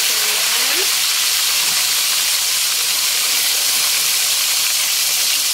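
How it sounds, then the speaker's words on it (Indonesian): Tilapia fish frying in hot oil, a steady broadband hiss and sizzle that stays loud and constant throughout. "lalu kita goreng lagi ikan yang"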